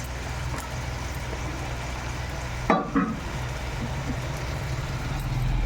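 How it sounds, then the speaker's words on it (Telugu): Mushrooms stirred and frying in a pan for biryani, a steady sizzle throughout with a couple of brief scraping clatters of the spoon midway, no voice. "మష్రూమ్ వేసినాయి బాగా కలుపుకోవాలి ఒకసారి"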